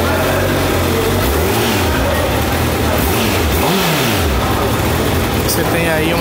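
A Honda motorcycle engine starts and revs loudly up close, with a couple of rising and falling throttle sweeps over a rough idle, and a person speaking alongside.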